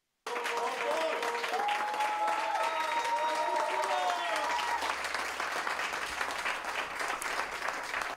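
Sustained crowd applause at Mergozzo, marking the close of the 26 May municipal election results in Verbano Cusio Ossola. It is dense and steady for about eight seconds, with voices and a few whistle-like tones mixed in.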